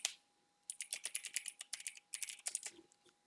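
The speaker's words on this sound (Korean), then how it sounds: "글씨를 쓰시고요" Computer keyboard typing text into a shape in a Korean word processor, practiced for the ITQ Hangul exam: quick, close key clicks in rapid bursts with short pauses, no voices.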